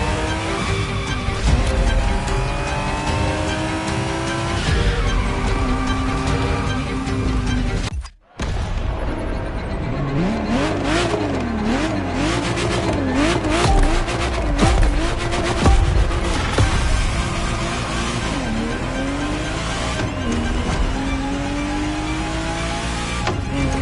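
A Ferrari Testarossa driven hard in The Crew racing game, its engine droning and rising through gear shifts with repeated tire squeals and skids, loud and continuous, broken by a brief silence partway through.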